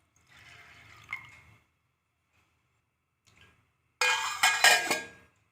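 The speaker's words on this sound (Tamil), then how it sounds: "உளுந்து வேக வைக்கிறதுக்கு 1 டம்ளர் தண்ணி ஆட் பண்ணுறேன்." A tumbler of water is poured onto urad dal in a vessel set inside a pressure cooker. A brief trickle comes first, then a louder, splashy pour of about a second and a half, close by, with no talk.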